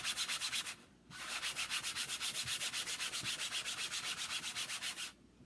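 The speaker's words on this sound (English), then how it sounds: "So I'm just very lightly sanding it." Light sanding, close up: quick rhythmic back-and-forth strokes of sandpaper, a short pause, then a long even run of rubbing.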